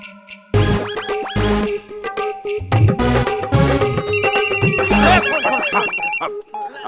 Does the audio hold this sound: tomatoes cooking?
no